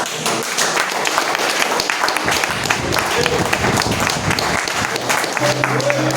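A church congregation at Igreja Apostólica Deus Proverá claps in a dense, continuous burst, near and lively, with a faint murmur of voices underneath.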